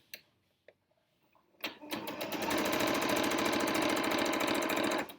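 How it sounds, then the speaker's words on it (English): After a few quiet clicks, a sewing machine starts up and runs steadily, its fast, even needle rhythm close and loud as it stitches quilt binding strips together corner to corner. "I'm just going to sew on that line corner to corner."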